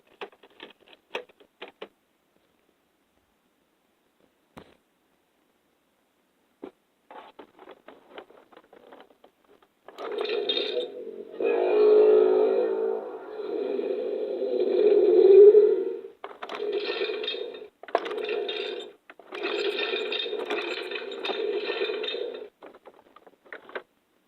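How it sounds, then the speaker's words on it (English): Electronic sound effects from a Marvel Infinity Gauntlet toy, starting with small clicks and handling noise before three bursts of lo-fi buzzy, crackling effects that run for several seconds, heard close with no talking. "That was all 3 possible sound effects from the Infinity Gauntlet."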